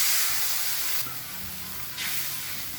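Water poured into a hot pan of sautéed garlic and onion for siopao sauce sets off a loud, broad sizzling hiss that surges in two steps as more water hits, with no talk over it.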